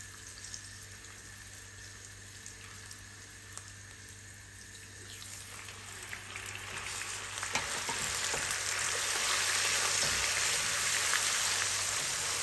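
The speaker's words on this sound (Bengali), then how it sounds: "এই পেঁয়াজটাকেও আমি ব্রাউন কালার করে দিব, ভেজে, যাতে পেঁয়াজের গন্ধটা না থাকে।" Onion paste fries in a pan, a hissing sizzle that starts moderate and swells louder and denser partway through, then holds steady with no speech.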